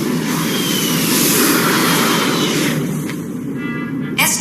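Cartoon fighter aircraft squadron landing on a carrier flight deck: a loud, sustained jet-engine roar that fades near the end, with brief sharp bursts of noise.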